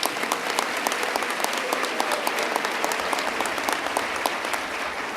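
An audience claps at a governor's budget presentation, sustained many-handed applause with a few sharp, distinct claps standing out near the listener over the steady crowd wash.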